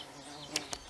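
A bee buzzes close by, with two quick sharp bursts of buzzing over a faint background hum.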